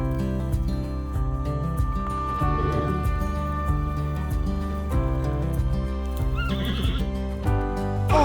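A horse whinnies loudly and repeatedly while hooves clip-clop in steady rhythm underneath, close and clear.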